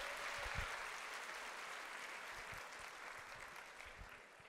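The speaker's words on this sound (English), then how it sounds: "Clap it up for her." An audience claps together at a talk on finding passion outside work, a dense, even wash of applause heard from a distance at low level, with no voices over it.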